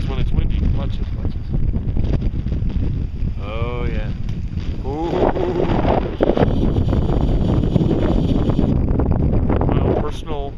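Wind roars across the microphone while riding a Wave Runner on a lake, a loud steady rush with buffeting, and someone talks over it throughout.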